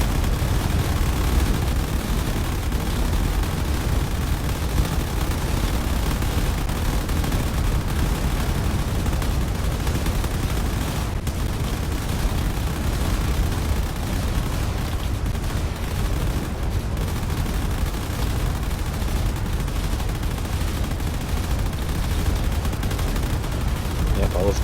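Railgun fire and heavy weapons in a space battle from the game Drone Wars form a dense, continuous roar of rapid shots and booming impacts, loud and steady throughout with no pauses.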